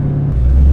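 A loud, supercharged 600 HP Camaro ZL1 engine makes a steady, heavy low rumble, heard from inside the car with the windows rolled up, and swells slightly toward the end.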